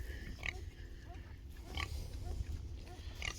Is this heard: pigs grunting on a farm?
yes